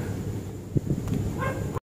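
A dog gives a short pair of barks, loud and close, against a low background hum.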